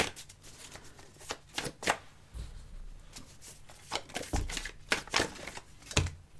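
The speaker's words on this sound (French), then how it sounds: "On va tirer une petite carte" Oracle cards are shuffled and drawn by hand, giving close, crisp riffling bursts and quick flicks in an uneven rhythm with short pauses, and no voices.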